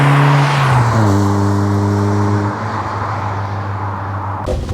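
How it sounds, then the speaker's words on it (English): A tuned 1.4-litre Rover Streetwise with a K-series engine gives a raspy exhaust note nearby, its pitch falling and then holding steady as the revs settle, with a brief clunk at the end. "Real raspy from the exhaust, but it could be no other car than a K series making that noise."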